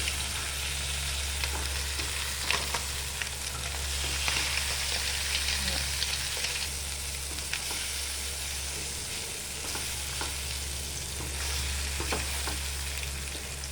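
Egg gently stirred into a ridge gourd curry in a hot pan, continuous close sizzling and frying hiss with soft intermittent scrapes of the spoon, steady and even throughout, no talking.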